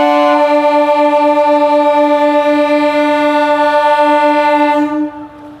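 Train horn at a station: one long, loud, steady blast lasting about five seconds, then cutting off abruptly, leaving a fading rumble of the train behind it.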